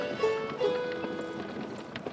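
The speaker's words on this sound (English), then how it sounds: "Alexander's driver notices that his master is weakened and strikes the horses. The carriage drives away." Hoofbeats of horses pulling a carriage clop away in the video game Black Book, a steady patter of hooves alone at moderate level without talk.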